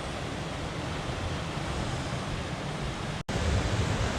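Rushing water roars as a constant broadband hiss from a waterfall. The sound is steady and fairly close, with one brief dropout near the end.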